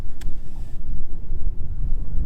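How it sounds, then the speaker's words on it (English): Strong 25 to 30 mph wind buffets the microphone on Lake Lanier during a bass fishing trip, a steady loud low roar of gusts with no voices. "We're battling winds that are 25 to 30 miles an hour."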